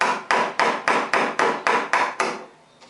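A wooden mallet drives a 1.5-inch chisel into a wooden stool seat being hand-carved, landing nine sharp, evenly spaced blows close up, each ringing briefly before the next.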